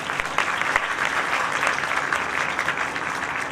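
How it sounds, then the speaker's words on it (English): A literature festival crowd gives its organizers a round of applause, sustained even clapping from many hands, fairly close and continuous, with no voices standing out. "they deserve a great round of applause"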